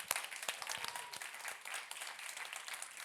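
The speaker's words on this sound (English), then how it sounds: "Can we get a little bit of applause so we get the energy in the room?" Audience applause fills a conference hall at an event in Copenhagen, a dense steady clapping from a sizeable crowd that holds level throughout, with a few sharper individual claps standing out near the start.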